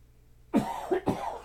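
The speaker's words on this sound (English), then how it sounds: "I've started coughing, so I'm going to stop soon." A couple of short, close coughs in quick succession, sharp and throaty, with nothing else around them.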